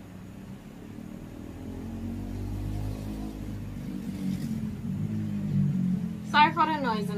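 Road traffic passing beside a roadside home, a low continuous rumble of vehicles that swells and fades, heard near and steady, with a brief burst of voice near the end.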